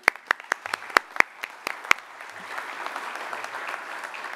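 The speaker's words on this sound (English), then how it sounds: "A round of applause, please." Applause at a Major League Soccer announcement starts with a few loud, close, separate claps and then swells into a quieter, denser wash of crowd clapping.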